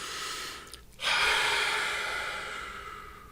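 One deep breath drawn in slowly through the nose and mouth, close and clear, rising sharply and then holding for a couple of seconds in a quiet room.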